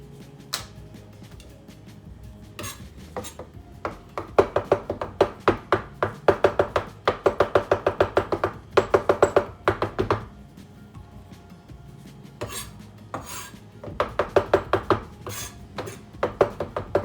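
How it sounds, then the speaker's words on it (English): Knife chopping on a cutting board in quick bursts of rapid, crisp taps, pausing between runs, close and fairly loud with no talking. "I'm going to just keep chopping away here until it's tiny"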